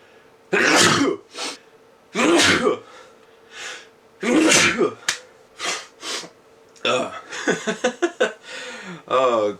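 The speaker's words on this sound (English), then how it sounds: "Sneezing halfway through the video." A series of loud, explosive sneezes spaced a couple of seconds apart, followed by sniffing and throat noises, close up.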